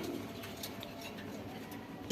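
Pigeons in a loft, several of them nesting on eggs, give a soft, low, steady cooing close by, with faint rustling and no talk.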